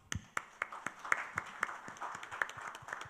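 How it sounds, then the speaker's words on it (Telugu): An audience at a social impact conclave claps, with sharp individual claps in a quick, slightly uneven rhythm, fairly faint and distant, with no talking over them. "బట్ ఫైనల్గా మీ అందరికీ మంచి క్లాప్"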